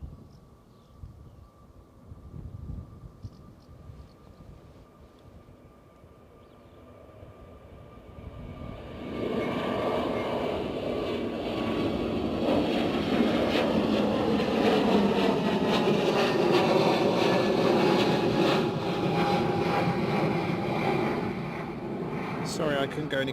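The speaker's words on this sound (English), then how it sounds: "That has taken off very light, I would imagine, from the sound and the angle." An Airbus A320neo airliner takes off at Bristol Airport. A quiet stretch gives way to a swelling, steady jet roar that holds loud and broad for the rest of the span, heard from some distance.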